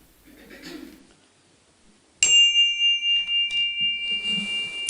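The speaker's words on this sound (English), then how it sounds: "And we sound the chime." Chime sounded during a Sunday church service: after faint murmuring, a single bright strike rings out and sustains, followed by a second strike layered over the fading tone.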